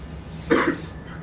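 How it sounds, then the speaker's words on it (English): A single short cough, fairly close, rising briefly above a steady background hum. "Somebody's coughing."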